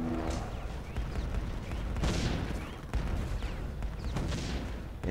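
Cannon towers in the tower-defense game Defense Grid: The Awakening fire in a steady barrage of booming blasts, several dull explosive thuds arriving every second or so over a continuous rumbling battle bed, with no talk.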